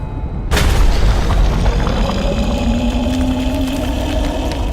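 A pipe shotgun fires in the horror game Tormented Souls: one sudden loud booming blast, then a long rumbling, ringing tail that hangs for several seconds with no talk.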